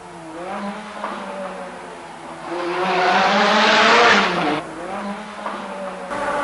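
Race car driven by António Rodrigues during a race, its engine note climbing and falling through gear changes, swelling loud as it passes close, then easing back to a steady drone.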